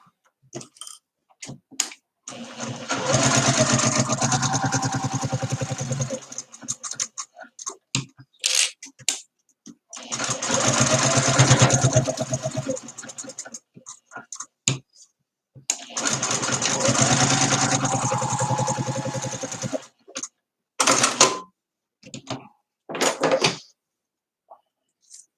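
A sewing machine bastes fabric in three sustained runs of a few seconds each, a close mechanical whir separated by short handling clicks and quiet pauses, with no talking.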